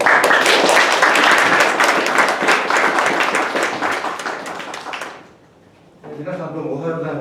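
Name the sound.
audience applause for the school principal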